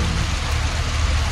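Rain falls outdoors near a hospital, a dense continuous broadband hiss with a low rumble underneath, loud and close for a brief moment.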